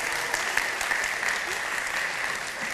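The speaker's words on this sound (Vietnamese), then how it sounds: "Khán giả vỗ tay ủng hộ em." Studio audience at a Vietnamese TV show applauding steadily, a dense wash of clapping that holds at an even level throughout with no talk over it.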